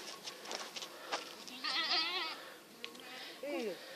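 Goats bleat in a rural wilderness camp in Jordan, a couple of wavering calls close by, heard between and under people talking about the price of goats and sheep.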